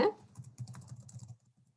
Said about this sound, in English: I will type it in the chat.